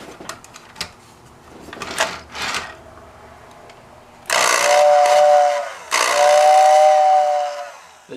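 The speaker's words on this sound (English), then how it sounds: "let's get an old whistle tender and see how this baby works on here." A Lionel toy train whistle tender, powered through a restored Lionel RW transformer, sounds two loud, airy hissing whistle blasts, each about one and a half seconds long, after some faint clicks and handling noises.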